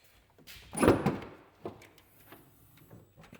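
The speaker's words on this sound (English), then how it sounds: "go over here and shut the door" A car door is swung shut in a garage workshop during repairs, making one solid, close thunk followed by a few faint knocks and rattles, with no talking.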